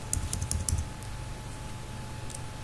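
Rapid keystrokes on a computer keyboard in a short burst as code is typed, then a quieter pause with a few isolated taps near the end, close and clear.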